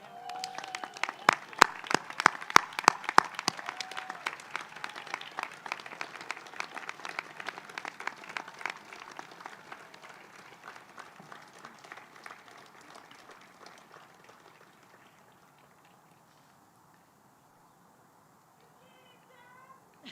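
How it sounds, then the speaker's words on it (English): A graduation commencement audience applauds, dense clapping that starts loud and fades away over about fifteen seconds, ending in near silence. "Stand up and give them a round of applause."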